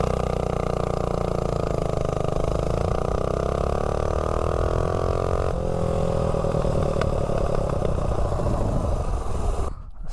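A Tillotson 212 small engine, fitted with a 24 mm flat-slide carburetor and a flywheel, revs loud and steady as it accelerates from 0 to 30, droning with rising pitch and cutting off abruptly at the end.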